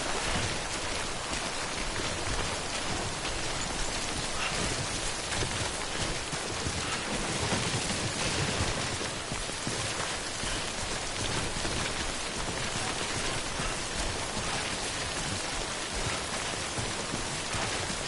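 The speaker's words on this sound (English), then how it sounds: "Don't stay out in the rain any longer than you have to." Steady, heavy rain pours without a break in a video game, a dense hiss of timefall drumming on surfaces at even loudness throughout, with no voices.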